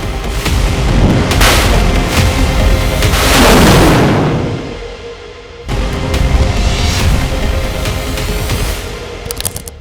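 An S-400 air defence missile launch roars as a loud, sustained blast with a broad rushing surge that fades and then swells again, heavy and close.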